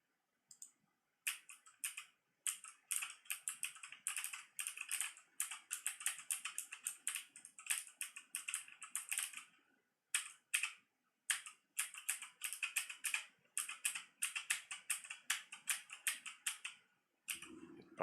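Rapid clicking keystrokes on a computer keyboard come in uneven bursts with short pauses. They are close and fairly quiet, and no one speaks.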